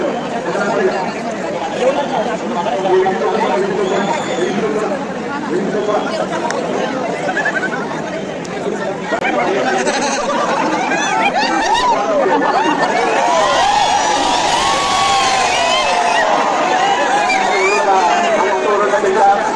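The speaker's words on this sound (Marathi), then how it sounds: "गर्दी बघितली का" A dense crowd queues for darshan at the Dagdusheth Ganpati temple, loud overlapping chatter and voices filling the space continuously, with nearby people talking and occasional laughter.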